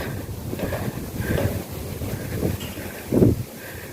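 Wind blowing steadily across an open clifftop overlooking a town, a continuous rushing noise that swells in gusts and buffets the microphone, with no talking.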